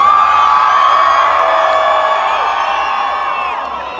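A loud, dense crowd screaming and cheering at a concert in Johannesburg, a sustained wall of high-pitched voices that slowly fades slightly toward the end.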